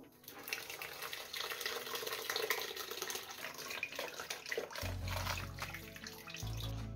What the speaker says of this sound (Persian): حالا وقتشه که این آب هندونه ای که اینجوری قرقاتش کردیم با دستگاه رو از صافی رد کنیم و توفالاش جدا کنیم